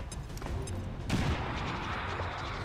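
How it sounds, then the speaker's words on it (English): A grenade bursting on a sectoid in XCOM 2, a sudden thudding blast about midway through that washes into a sustained roar over steady game background noise. "We hit the sectoid with the grenade."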